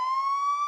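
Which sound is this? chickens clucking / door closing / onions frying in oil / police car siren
police car siren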